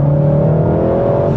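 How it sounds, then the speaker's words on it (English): Mk7 VW Golf GTI Clubsport S engine with a steady, loud intake whoosh and drone heard from inside the front-wheel-drive car, holding a continuous tone without a break. "the character of that engine, the intake noise, that whoosh,"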